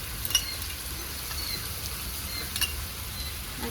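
Ginger-garlic paste sizzles in hot oil after onions have fried, a soft, steady crackling hiss with a few small pops and stirring sounds, fairly quiet and close.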